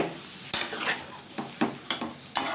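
Vegetable dalna with lau shak, palong shak, bori and ground spice powder stirred in a pan with the gas off, a spoon scraping the pan in a few distinct strokes over a faint background, close and fairly quiet.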